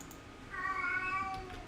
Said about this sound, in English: And I'm sorry for my cat.